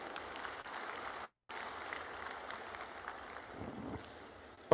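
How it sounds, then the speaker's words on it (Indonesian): An audience at a city coordination meeting applauds the mayor, a moderate steady clapping that drops out briefly and then resumes. "Tepuk tangan untuk Bapak Wali Kota."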